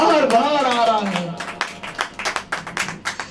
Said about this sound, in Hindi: ताली बजाओ, बार बार आ रहा है